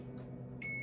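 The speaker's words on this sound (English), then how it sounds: "my timer is going off" Kitchen timer going off while a caramel cheesecake bakes in the oven, a steady high electronic tone starting abruptly over a low appliance hum, close by, with no talking.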